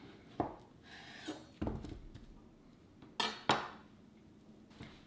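A knife cuts through a peeled pawpaw on a board, giving several sharp, close knocks and clinks spaced irregularly, with quiet kitchen handling between them.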